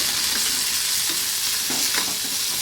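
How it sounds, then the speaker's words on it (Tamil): Bitter gourd fries in a pan with a steady, dense hiss of sizzling oil and occasional soft stirring scrapes, close and continuous with no voices. "இதுக்காக ஸ்பெஷலாக வந்து பாவக்காய் ஃப்ரை இருக்கேன்"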